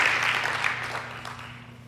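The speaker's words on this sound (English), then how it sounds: "Another round of applause" A church congregation gives a short burst of applause that starts full and fades over about two seconds.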